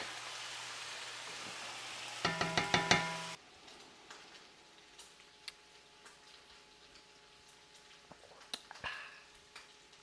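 Bacon fries in a pan, cooked until good and dark, with a dense crackling hiss for a few seconds. It then settles into quieter, scattered pops and ticks close by.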